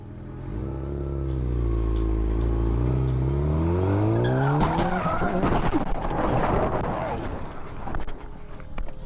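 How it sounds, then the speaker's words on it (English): A Camaro runs a red light and slams into an SUV at an intersection: loud engine roar and rising whine build for several seconds, then a burst of crashing, scraping impact noise and debris, captured close from a helmet-mounted camera in traffic. "As Malik drives through the intersection, a Camaro to his left runs a red light, slamming into the SUV just feet in front of Elizé"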